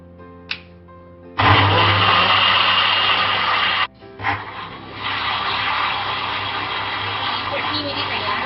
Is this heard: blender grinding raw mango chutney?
yes